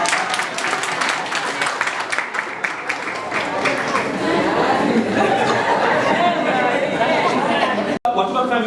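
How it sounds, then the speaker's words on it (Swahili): Applause and clapping from a crowd at a school parents' meeting as parents receive gifts, a steady dense patter building through the middle alongside chatter and some laughter, cutting off briefly near the end. "mpigeni makofi"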